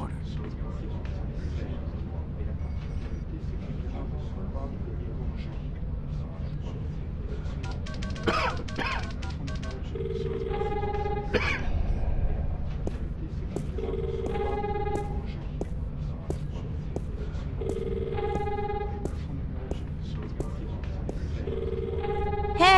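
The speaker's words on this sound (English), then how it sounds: "Hey, there's a phone call for you." Telephone ringing in the point-and-click adventure game The Longest Journey, a repeated electronic ring in short regular bursts over steady background ambience, with faint voices beneath.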